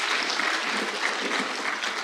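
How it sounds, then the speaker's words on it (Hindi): Steady audience applause fills a mushaira poetry gathering in Delhi, dense even clapping from a crowd welcoming a poet, somewhat distant and unbroken for the whole stretch. "जोरदार तालियों से उनका इस्तकबाल किया जाए।"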